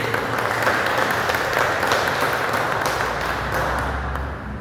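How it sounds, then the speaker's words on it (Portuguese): A church congregation claps together in sustained, dense applause that fills the room steadily, then softens slightly toward the end, with no talk over it. "As palmas, louvem o nome do Senhor."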